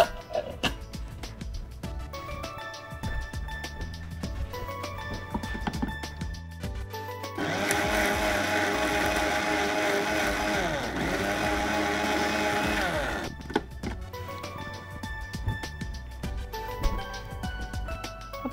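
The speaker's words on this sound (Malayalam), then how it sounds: "നമുക്ക് ഈ മിക്സിയുടെ ജാറിലേക്ക് ഇടാം." A kitchen mixer grinder runs loud and steady for several seconds, blending a cooked bell pepper mixture with no water added, framed by quieter kitchen clatter and handling before and after.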